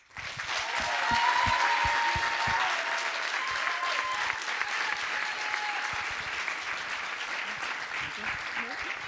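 An audience at a thesis-in-180-seconds competition evening gives a presenter a loud, dense round of applause that rises quickly and stays strong throughout, with some voices mixed in.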